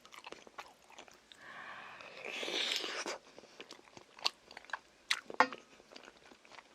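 Close, crisp biting and chewing of rosé tteokbokki with cut glass noodles at a mukbang meal, a soft sustained crunch followed by several sharp, separate bites and chews.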